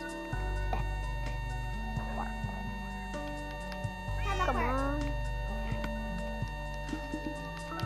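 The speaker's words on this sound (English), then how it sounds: "It is not a dog. It is a cat. And listen to him." A cat meows in Minecraft, with one clear rising-falling meow standing out midway over a low musical game background, ticking sounds and a few fainter mewing calls.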